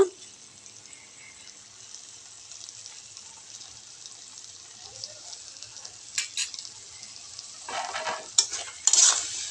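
Cabbage cooking in a pan with ghee is stirred, a faint sizzle under quiet scraping that gives way near the end to louder bursts of stirring and clatter.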